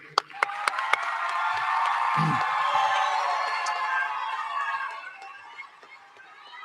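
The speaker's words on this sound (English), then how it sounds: "One more round of applause for everybody" A seated audience at a 2021 high school commencement ceremony applauds, a broad, moderately distant wash of clapping with a few cheers that swells after a couple of sharp claps and then fades out.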